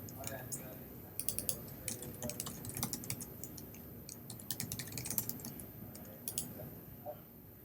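Rapid, irregular clicking of keys on a computer keyboard as a password is typed, close and moderately loud, in bursts with short pauses over a faint background hum.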